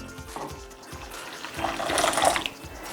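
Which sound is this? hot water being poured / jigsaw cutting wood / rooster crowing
hot water being poured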